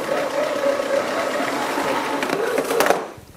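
The power cord of a Philips Performer Ultimate vacuum cleaner rewinding: a loud, steady mechanical whirring rattle up close for about three seconds, ending in a brief clatter as it stops.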